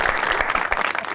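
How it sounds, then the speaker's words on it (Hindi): A studio audience on a talk show gives a short burst of applause for a guest, with brisk, dense clapping at close range that lasts about a second. "तालियां भट्टी साहब के लिए जी"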